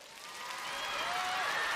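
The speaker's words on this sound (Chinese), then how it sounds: "让我们掌声欢迎" A crowd at a televised music competition breaks into applause to welcome performers, a soft wash of clapping that swells gradually from faint to fuller, with a thin musical tone gliding underneath.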